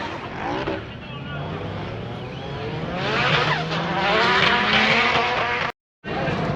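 Drift cars slide around the track at Ford Fair, with engines revving and tires squealing in long rising and falling sweeps. A constant roar from the event lies underneath, and a short dropout cuts the sound near the end.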